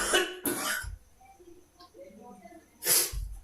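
Several harsh coughs from a lecturer teaching pharmacology of smoking-cessation drugs, two close bursts at the start and another near the end, with quiet gaps between.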